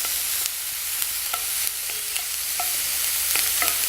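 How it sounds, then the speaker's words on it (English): Onions sweating in a pan over a camping stove give a steady close sizzle, with occasional stirring scrapes and clicks throughout. "the whole idea with this here is to just sweat the onions down and soften them a bit"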